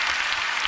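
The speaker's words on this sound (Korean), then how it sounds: "여러분, 박수 한번 크게 쳐주세요." An audience at a church prayer meeting breaks into applause, a short, dense and steady burst of many hands clapping at once.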